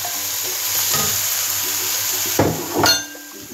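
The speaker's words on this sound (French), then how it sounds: "On rajoute les courgettes." Salted, squeezed courgettes sizzle loudly in a frying pan for ratatouille, with a brief burst of scraping and clatter near the end as they are stirred in.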